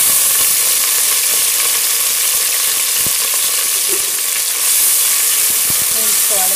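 Coriander and mint leaves fry in a pan for restaurant-style veg biryani, giving a steady, loud sizzle with faint scraping and stirring clicks running throughout.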